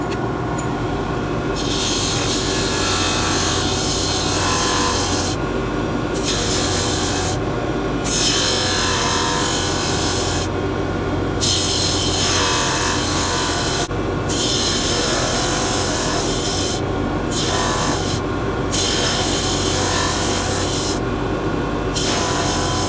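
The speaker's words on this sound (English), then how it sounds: "we need to relieve these edges all the way around. So nothing better than the disc sander." A disc sander relieves the edges of a wooden pen blank, giving a loud, continuous grinding rasp with several brief lighter gaps as the workpiece is lifted off and pressed back against the disc.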